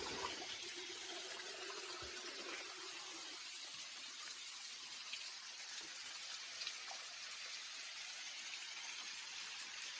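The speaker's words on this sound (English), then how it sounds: "Cascade Falls is falling just a little bit, not a bunch." Cascade Falls in Mill Valley, California, running low in late summer, gives a steady, moderate wash of falling water that continues unbroken throughout with no voices.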